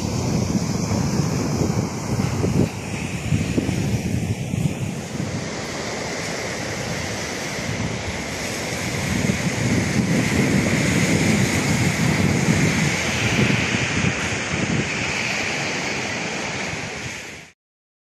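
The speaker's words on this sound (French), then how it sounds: "Une belle plage." Surf and gusting wind at the beach of L'Almadrava in l'Ampolla: a steady broadband wash of breaking waves with rough wind buffeting the microphone, continuous for about eighteen seconds. No one speaks.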